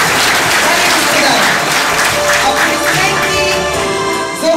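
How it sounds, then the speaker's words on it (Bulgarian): Sustained, loud audience applause rolls through an evening event of exhibitions and film screenings hosted by a Bulgarian-Arab cultural center. A faint voice sits under the clapping. "аплодисменти за организаторите на тази незабравима вечер, Българо-арабският културен център"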